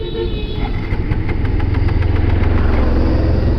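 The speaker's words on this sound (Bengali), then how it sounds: "আমার বাইক বন্ধ হয়ে যেতে চাচ্ছে কেন?" A motorbike engine runs rough and close, its loud uneven idle chugging and faltering in a fast irregular pulse as it struggles toward stalling.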